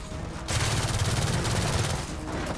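Rapid automatic gunfire rattles in a sustained burst during Gears of War 4 gameplay, dense and loud, with a short lull before the firing picks up again.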